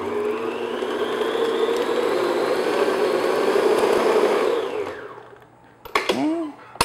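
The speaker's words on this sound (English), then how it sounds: "then I'm just going to beat it just to soften it and get it nice and smooth" An electric hand mixer beats room-temperature butter in a mixing bowl, a loud steady whir lasting about five seconds before winding down, followed by a few brief knocks and clatters.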